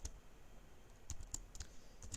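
C++ code typed on a computer keyboard: a few light, scattered key clicks over a soft steady hiss, faint and close, with no voices.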